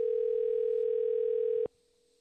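A steady, loud single-pitch telephone tone plays while a call is being placed, then cuts off abruptly into a quieter, different tone.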